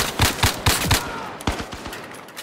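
Automatic gunfire in the VR shooter Zero Caliber rings out as loud, close bursts of rapid shots, a tight string of cracks followed after a short pause by a few more spaced reports.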